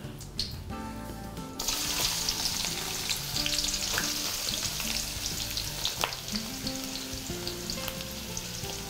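Onions sizzle and fry in a pan for Sri Lankan fish curry, with a quieter start before a sudden burst of loud, steady hissing as they hit the hot oil, plus occasional stirring clinks throughout.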